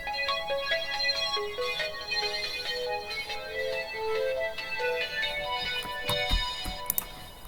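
A bright synthesized melody of short, evenly paced notes plays back in music software, the plucky tones stepping up and down steadily, ending with a few brief percussive hits.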